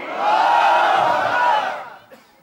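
Crowd roaring a takbir chant at a religious gathering, a loud unified shout swelling for over a second, then fading into a quieter room.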